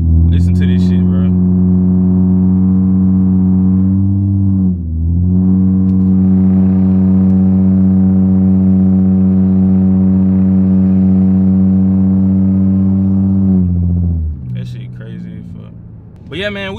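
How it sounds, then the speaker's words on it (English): A loud car engine drones steadily under strain going uphill, its pitch dipping briefly then holding as it climbs, with a few clicks and rattles near the start and end. "my car just be loud going up hills"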